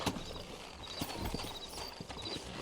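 Sturdy horses trot in Red Dead Redemption, their hooves clip-clopping in a steady, continuous rhythm at close range.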